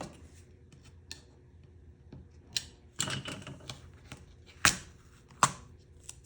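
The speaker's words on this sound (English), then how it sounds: "And then I use a X-Acto knife or a utility knife to cut that edge off." An X-Acto or utility knife slices the edge off paper tacked to a work surface, giving a few sharp, close scraping cuts and snips between quiet handling noises.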